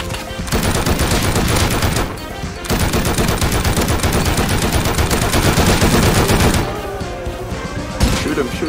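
Rapid automatic gunfire in the video game Rust, loud sustained bursts pausing briefly before resuming, with players talking over the shots.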